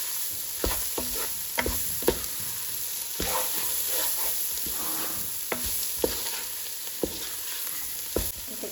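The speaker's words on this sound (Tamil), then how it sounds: "உப்பு போட்டு நல்லா கிளறி போட்டு" A spoon stirs a salted prawn biryani mixture in a hot pan, with steady sizzling and sharp scraping knocks recurring every second or so, close and without talk.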